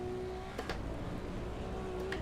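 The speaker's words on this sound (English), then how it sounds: "I am liking the Ferrari soundtrack right here." A Ferrari V6 engine in the racing game Assetto Corsa EVO drones at a steady, sustained pitch, held constant with a couple of brief clicks over the top.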